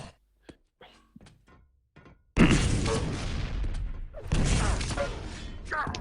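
Rocket fire in a competitive arena shooter match, a few quick thuds and pops followed by two loud, sustained explosive roars that fill the last four seconds.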